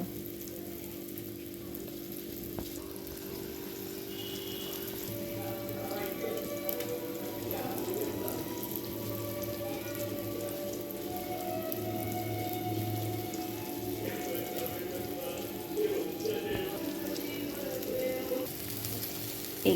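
Fish frying in oil on a gas stove over a high flame gives a steady, close hiss of sizzling and crackling spatter that carries on evenly throughout.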